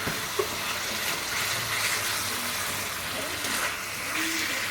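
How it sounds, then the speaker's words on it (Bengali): Water used to wash a grinding stone, carrying leftover ground spices, is poured into a hot cooking pot with meat, making a steady close splashing sizzle with a brief knock at the start. "শিলবাটার বেটে যে রাখা মশলাটা ছিল, শিল ধোয়ার জল, সেটা দিয়ে দিলাম।"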